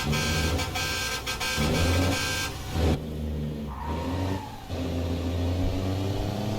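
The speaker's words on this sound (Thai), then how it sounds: "นี่เช็คเสียงแตรกันหน่อยครับ" An Isuzu truck horn in Euro Truck Simulator 2 blares in several long blasts over a steady engine drone, with short gaps between honks.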